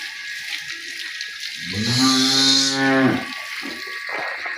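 A brown Nili-Ravi buffalo on a dairy farm lets out a single deep, drawn-out moo lasting about a second, loud and near, against a soft background hiss.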